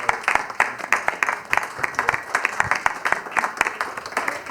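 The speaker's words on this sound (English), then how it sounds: "Also, a round of applause for Steve Kraske." Audience applause at a live jazz event, a steady round of many people clapping with distinct sharp hand claps, moderately loud and continuous throughout.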